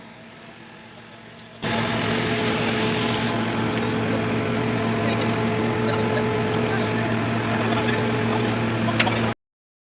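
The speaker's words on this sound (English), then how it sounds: "You can see here the wheels of the TRT run on the crawler based sled." A railway track renewal train rolls on its crawler-based sled, a loud, steady mechanical drone with engine hum that starts abruptly and holds constant before cutting off.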